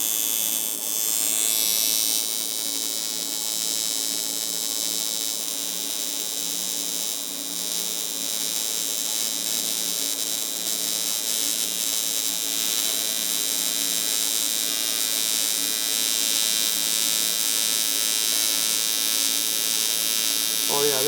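An Everlast 250EX TIG welder preheating and welding aluminum gives off a steady, close electrical buzz and hum that holds without break for over twenty seconds.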